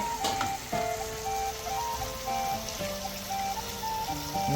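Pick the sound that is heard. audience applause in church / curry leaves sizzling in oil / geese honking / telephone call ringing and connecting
curry leaves sizzling in oil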